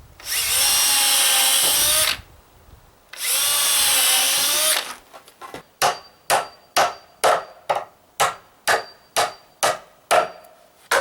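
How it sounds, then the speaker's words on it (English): A power drill whines in two long bursts, then a quick series of about a dozen short, sharp pulses as it pre-drills the ends of a wood board. "I like to pre-drill my ends before I handle it."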